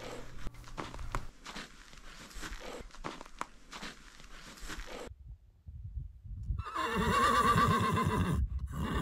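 A horse on a mountain trail gives a loud, drawn-out whinny near the end, preceded by soft shuffling and hoof thuds, with no talking.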